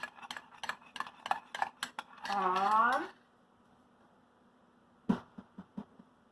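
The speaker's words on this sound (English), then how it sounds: "So I'm stirring in the honey." A spoon stirs honey into an iced matcha latte in a glass, giving a run of quick clinking taps at close range, then a gap and a few more scattered clinks. A voice talks briefly in the middle.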